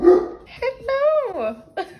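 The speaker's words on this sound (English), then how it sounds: "They're two Great Danes, which is a mission, as you can imagine" A pair of Great Dane dogs barking and whining in short bursts, close by, with a woman greeting them and talking over the sounds.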